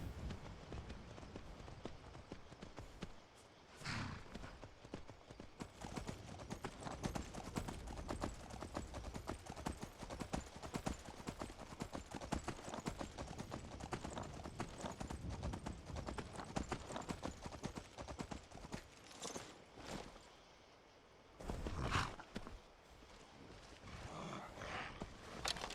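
In Skyrim, a horse's hooves clip-clop in a steady, continuous trot close by, with brief pauses and a few louder bursts breaking the rhythm.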